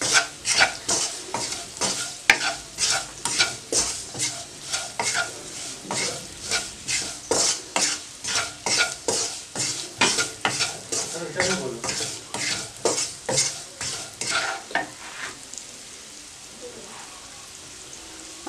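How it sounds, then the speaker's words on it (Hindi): Salt and chili are fried in a pan for chicken vegetable noodles, with steady sizzling under a quick, regular rhythm of a spoon stirring and scraping the metal pan, close and clear, easing off near the end. "इसमें इनको हल्का सा फ्राई करना है।"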